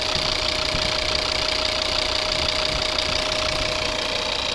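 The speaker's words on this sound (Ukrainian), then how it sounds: "робота двигуна. П'ятициліндровий." A 2011 Volvo V50 2.0-litre five-cylinder D3 diesel engine idles steadily with a rough, knocking rhythm and a faint constant whine above it.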